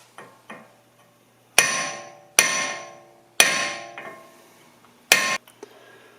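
A hammer strikes a drift punch to tap out a hub bolt on a Mazda MX-5 rear knuckle, giving four sharp metallic rings with ringing decay, preceded by a couple of lighter taps.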